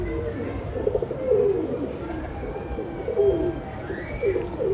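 A breeder pair of pigeons cooing close by, repeated soft throaty coos in a steady rhythm over a low background murmur.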